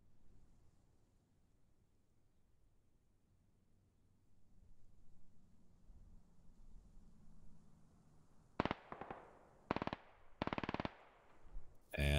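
Machine gun fire in the Squad military shooter game: after a long stretch of faint low rumble, several short, sharp bursts ring out close and loud near the end.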